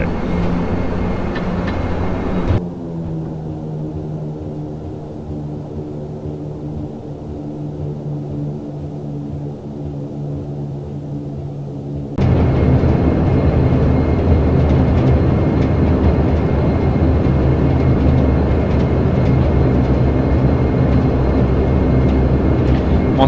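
Bombardier Q400 turboprop airliner rolling down the runway after landing, a loud broadband engine and propeller roar that dips to a steadier, quieter tonal drone before surging loud again, with no talking.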